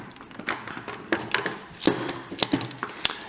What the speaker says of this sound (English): twist, and you hear it pop out